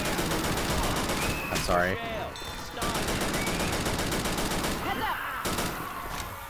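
Video game gunfire in Left 4 Dead 2: steady, rapid automatic shots run throughout amid chaotic game noise, with a player's voice speaking briefly over the action.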